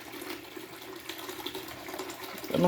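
Water draining from a home aquarium during a partial water change, a soft continuous trickle and gurgle close by that swells louder at the very end.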